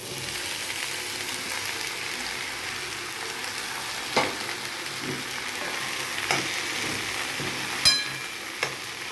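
Okra frying with onions in a pan for a simple bindi curry, a steady close sizzle with occasional scraping knocks from stirring, no talk.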